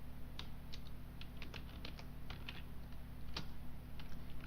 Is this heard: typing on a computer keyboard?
yes